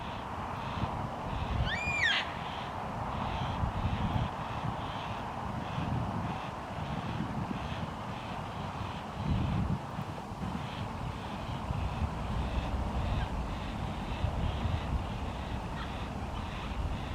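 A juvenile yellow-tailed black cockatoo keeps up harsh, repeated begging calls for food from the adults in Canberra, heard outdoors against steady wind noise, with one sharper call standing out early.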